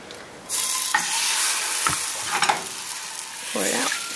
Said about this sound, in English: Pour some batter in the middle again.